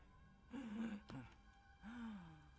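In the horror game Visage, a voice in the dark lets out two audible breaths, a sharp gasping inhale followed by a long sighing exhale, heard alone without speech.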